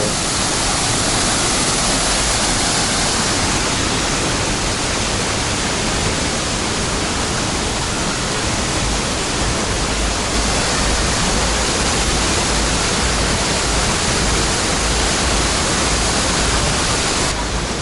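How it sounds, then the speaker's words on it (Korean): Roaring waterfall in Ubud, Bali, a loud, steady, unbroken rush of falling water filling the space from close by, with no voices. "폭포"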